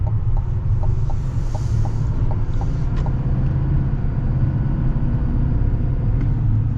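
A 2024 GMC Sierra HD AT4X pickup with a Duramax diesel engine drives along, giving a steady, loud low rumble of engine and road noise heard from inside the cab, with no talking.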